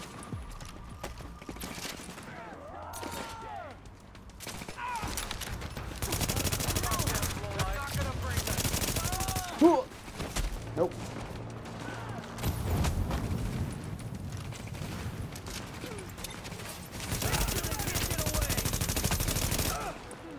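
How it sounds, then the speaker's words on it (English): Gunfire in The Division video game comes in scattered bursts and longer volleys, mixed with game effects and moderately loud, with talk intermittently over it. "How are you shooting me?"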